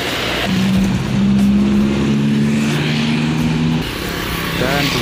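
An intercity Bagong bus from the Surabaya direction pulls away toward Kediri and Tulungagung on a Saturday evening, its engine a loud, close, steady drone with a rising tonal hum over constant road and traffic noise throughout.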